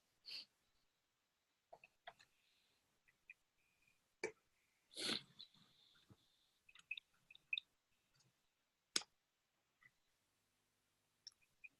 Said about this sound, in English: We hear the keys clicking.